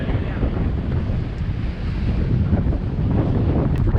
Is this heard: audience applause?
no